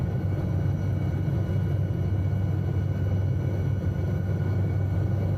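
SA315B Lama light helicopter hovering in Microsoft Flight Simulator 2020, a loud, steady low rotor and turbine rumble that stays constant and close throughout.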